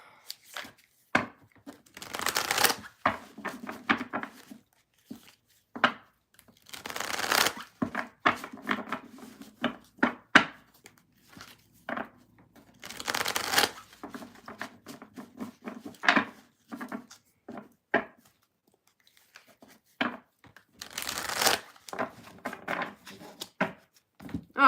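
Tarot cards shuffled by hand in repeated bursts of soft riffling and slapping, close and fairly quiet, with short pauses between rounds.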